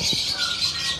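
Squawking from a large flock of roughly a thousand caged parrots at Elixir Zoo, a steady dense chatter of shrill calls that stays constant throughout.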